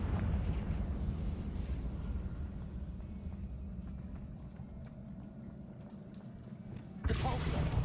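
A Confringo explosion spell in a wizard video game, heard as a sustained, heavy rumbling roar that runs throughout and then bursts out louder in a sudden blast near the end.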